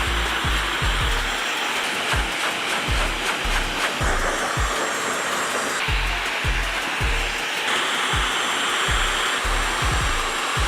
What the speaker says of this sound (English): For the blow dryer settings, high airflow, medium heat.